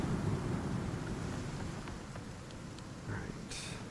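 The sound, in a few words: rain and thunder in video game Icarus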